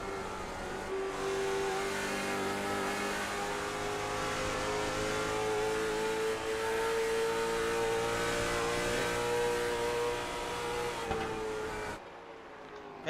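A race car engine at Richmond Raceway drones loud and steady on pit road, holding a sustained tone with slight pitch shifts as the revs rise and ease before cutting off near the end.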